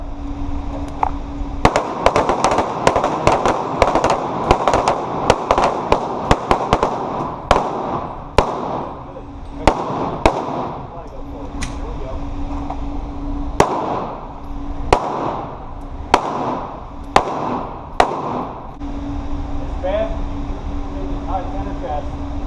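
Taurus G2C pistol shots fired during a defensive pistol class at an indoor shooting range, sharp loud reports coming in irregular bursts with short pauses, under a steady hum and some talk.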